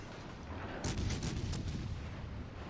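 Naval gunfire from a World of Warships: Legends match, a sudden loud salvo of several rapid heavy booms over a steady rumbling sea-and-engine background, no talk.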